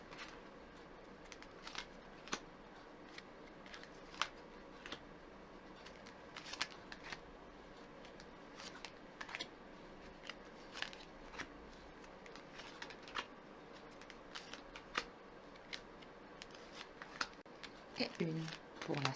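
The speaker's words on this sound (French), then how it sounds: "Je mélange les cartes. Je coupe." A deck of tarot-style cards being shuffled and cut by hand, giving a soft, steady papery riffle of quiet flicks and taps at close range, with no talking over it.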